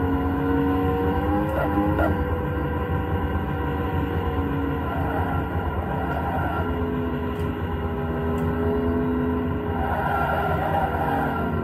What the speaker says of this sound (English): Cars on a speed track.